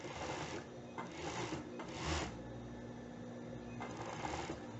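A sewing machine stitches the seam of a double-sided bikini in quick bursts, its needle mechanism whirring and rattling close up with short pauses between runs.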